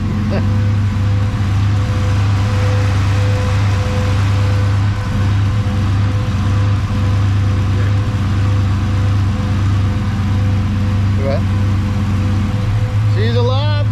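A VMP Odin supercharged Ford F150 engine runs at a steady loud idle with a constant low hum and whine, while a voice talks over it near the end.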